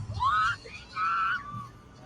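A fan screams at a BINI Grand Biniverse concert during the performance. Two long, shrill rising cries sound one after another, each lasting about half a second, with a brief lull between them.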